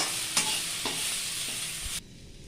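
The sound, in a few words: stirring onion and crushed garlic frying in a pan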